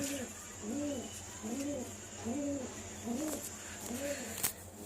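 Pigeons in a loft give about five regular, soft rolling coos in a steady rhythm, close by over faint background hiss.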